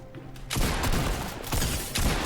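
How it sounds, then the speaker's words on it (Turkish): Deagle pistol fire in the Fortnite video game, with three loud broadband bursts arriving about a second apart, each sustained briefly over a dense, noisy game mix. "Deagle'la zıplayarak 200'ü vuruyorum şimdi izleyin"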